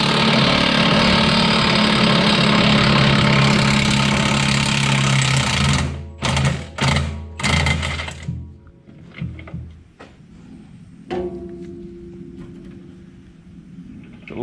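Milwaukee power tool spinning a large nut off a bush hog blade, a loud continuous whirring drive followed by several short bursts and then quieter clanks.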